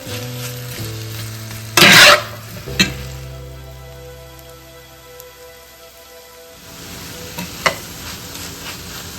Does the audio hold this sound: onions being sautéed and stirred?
yes